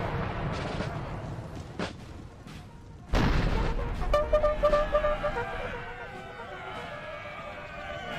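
Cannon artillery booms in the Napoleonic Total War 3 multiplayer battle, a heavy blast landing midway through after scattered distant thuds, followed by rolling rumble and battlefield clatter, with a voice talking over it.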